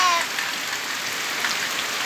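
Heavy rain pours down steadily at a country smallholding, a dense, even hiss of water striking surfaces close by, continuous and fairly loud with no voices.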